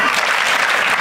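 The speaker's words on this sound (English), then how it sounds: "When I say clap, do 1 clap." Students at an induction program clap, filling the short moment with a dense burst of applause from many hands rather than one crisp, single clap.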